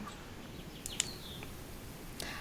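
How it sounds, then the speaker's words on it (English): Birds singing outdoors, faint high chirps heard twice at a distance over a steady background hiss, with no talking. "I hear birds."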